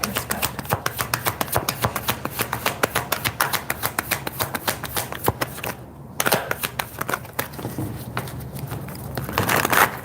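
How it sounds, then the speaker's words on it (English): A deck of tarot cards being shuffled by hand, a steady run of crisp riffling flicks close up for several seconds with one brief pause, with no talk. "I feel like I have to shuffle more"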